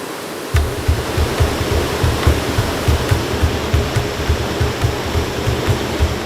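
A waterfall at Bukit Uram roars steadily up close, a dense wash of rushing water with a low rhythmic pulsing underneath, no voices.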